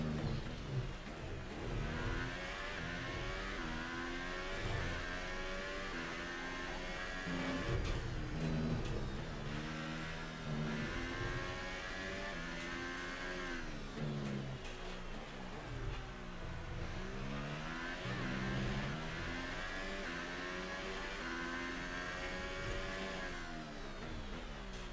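F1 race car engine in F1 2018 at the Bahrain race, a loud high-pitched wail that climbs and drops in repeated sweeps as gears shift, continuous throughout.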